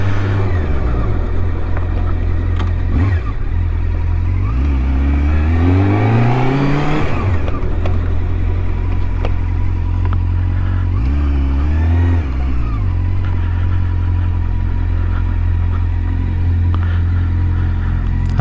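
A 2005 Triumph Daytona 650 sport bike on a test ride, its engine droning loudly and rising in pitch through the gears with sweeping revs, then settling into a steady rumble near the microphone.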